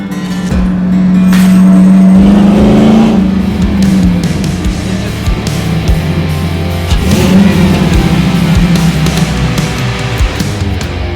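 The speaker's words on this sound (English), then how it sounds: "Go ahead for a little drive in the 1970 L33 FJ-40." A restored 1970 Toyota Land Cruiser FJ-40 L33 restomod drives off loud and close, its engine revving up and droning steadily with shifts in pitch as it accelerates.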